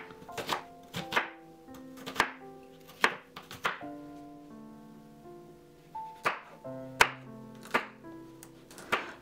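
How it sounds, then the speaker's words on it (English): Knife chops through an onion on a cutting board, cutting it into bite-size pieces in a steady series of crisp thunks, with gentle background music. "Slice the onion into bite size."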